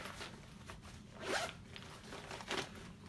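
A clothing zipper is pulled open in a quiet room, a few soft scratchy zips, one stronger pull near the middle and another shortly after.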